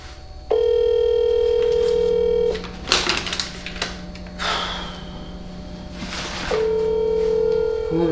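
A steady telephone dial tone hums for about two seconds, breaks off into breathy rustling and a sigh, then returns near the end.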